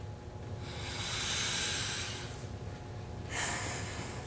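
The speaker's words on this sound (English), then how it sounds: "take a deep sniff in" A person takes a long, deep sniff in through one nostril while holding the other closed during a physical assessment. The breathy intake is close and steady, then a second shorter sniff follows.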